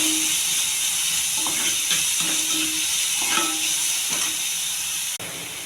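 Curry leaves sizzle in hot oil with a steady, close hiss, broken by a few soft stirring knocks and a sharp clatter near the end, with no talking.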